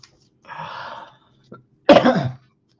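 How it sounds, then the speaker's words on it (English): A man coughs close into a microphone: a short burst, a brief catch, then a heavy louder cough, with silence between. "I should probably stop coughing like right into the microphone"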